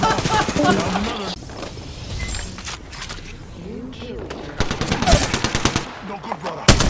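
Rapid bursts of automatic gunfire in the shooter game Apex Legends crackle in quick rattling volleys, growing denser toward the end, with game voice lines and talk mixed in.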